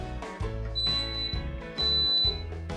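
Instant Pot Duo Crisp air fryer set to 200 degrees for 30 minutes, its start button pressed: a thin, steady high beep tone sounds twice over a loud, busy background of music-like harmonic sound.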